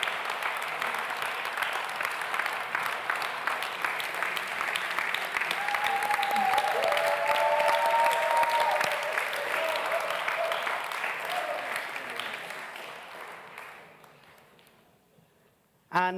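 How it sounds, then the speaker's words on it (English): Warm applause from an audience at a European social economy awards gala, a long sustained burst of clapping with faint voices underneath, gradually thinning and fading out near the end. "Would you please give a warm round of applause for Comunitat Minera Olefana?"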